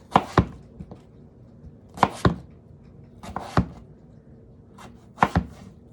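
A knife cuts a potato into slices for French fries on a cutting board, four or five sharp separate chops spaced a second or more apart, close and clear over a quiet background.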